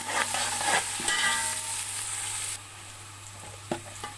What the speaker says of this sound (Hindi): अब लहसुन को भी भून लूँगी।